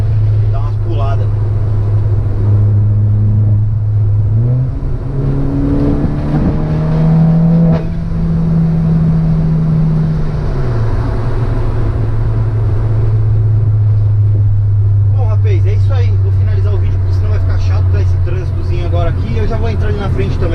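Exhaust of a car heard from inside the cabin as it pulls hard in second gear, a loud steady drone with rising pitch and a gear-change dip, with occasional stumbling shifts and a voice speaking over it.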